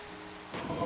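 Rain in Minecraft sets in partway through, a sudden steady broadband patter of falling drops, fairly close and continuing to the end.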